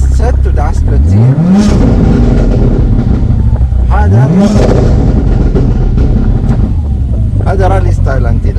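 Tuned street-spec Mitsubishi Lancer EVO X engine in rally-style anti-lag mode, revving twice in loud rising sweeps with popping and crackling between, close and dominant with some voices in the background.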